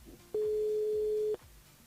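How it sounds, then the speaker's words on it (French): A single steady telephone ringing tone sounds for about one second as a radio call-in show dials a listener, clear against faint background noise. "On appelle Evelyne du côté des avirons"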